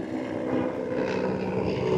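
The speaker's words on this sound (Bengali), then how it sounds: "O nice, helicopter." A helicopter passes overhead, heard from the road as a steady, moderately faint rotor drone lasting a couple of seconds with no one talking.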